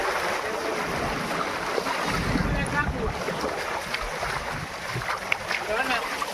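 Floodwater pouring from an overflowing dam after heavy rain, a loud continuous roar and rush of water with gusty wind buffeting the microphone throughout.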